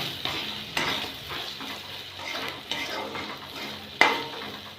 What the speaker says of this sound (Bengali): পাশে আদাটা ভেজে নিলাম, ভাজা হয়ে গেলে সবজির সাথে মিশিয়ে দিলাম